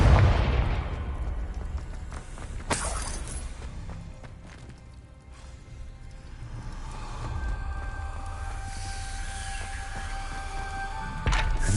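Confringo explosive spell from Hogwarts Legacy going off: a loud blast at the start, a sharp crack near three seconds and another burst at the end, with lingering rumble and tonal game ambience between.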